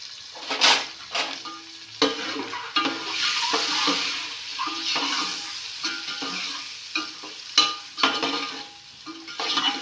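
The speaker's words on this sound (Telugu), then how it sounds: "గుడ్లు ఫ్రై చేసేటప్పుడు ఎప్పుడైనా సరే పసుపు వేసుకోవడం పసుపు వేసుకోవాలి" Eggs fry with turmeric in a hot pan, a close sizzle broken by repeated spatula scrapes and metal clinks against the pan, with no one talking.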